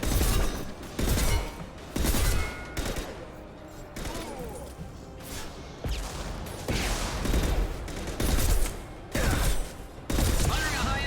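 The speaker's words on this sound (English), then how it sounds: "Firing a high-impact shot!" Heavy gunfire from a high-impact shot in a video game, arriving as loud repeated bursts of booming blasts with short gaps between volleys, over a rumbling battle background.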